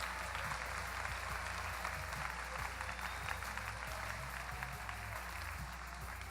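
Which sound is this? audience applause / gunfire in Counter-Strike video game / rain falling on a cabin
audience applause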